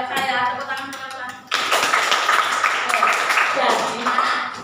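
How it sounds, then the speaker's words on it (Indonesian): A class of students applauds a classmate after she answers a quadratic equation problem at the board, a burst of clapping that starts abruptly and fills the room loudly and steadily. "Tepuk tangan untuk Elsa"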